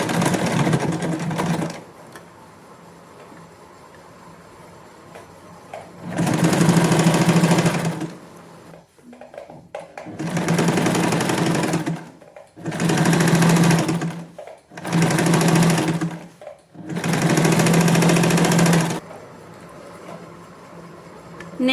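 Sewing machine stitching the neckline of a boat neck waistcoat, five loud, steady runs of one to two seconds separated by short pauses, close up with a low hum between runs.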